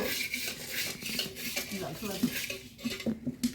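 Paddy grains roasting in a pot on a clay stove in a village home are stirred, giving a busy run of scraping, rattling clatter and repeated metallic knocks close by, with brief voices mixed in.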